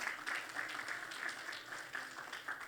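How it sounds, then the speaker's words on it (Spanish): Congregation applause during a church sermon, a soft, somewhat distant patter of clapping with rhythmic pulses, fairly quiet and sustained briefly. "Denle ese aplauso fuerte al Señor"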